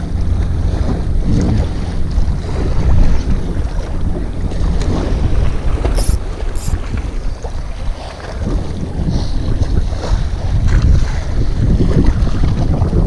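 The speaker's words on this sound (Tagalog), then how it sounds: "Oh, lakas ng hangin." Strong wind roars across the microphone on a fishing boat at sea, a loud, continuous rumble with gusts and water wash throughout, and no talking.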